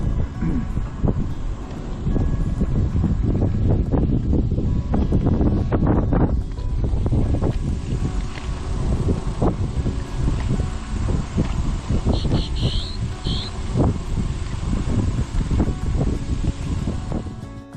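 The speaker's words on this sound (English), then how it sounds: "it's a little windy out" Steady wind rumbles and buffets outdoors on the Carolina coast, a loud low roar with gusty fluctuations throughout and no voices.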